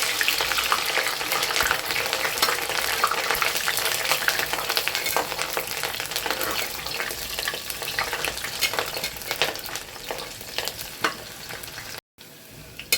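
Sliced onion frying in hot oil until brown for a beef liver masala, giving a steady, dense sizzle with occasional stirring clicks close by, continuing for the whole stretch before cutting out briefly near the end.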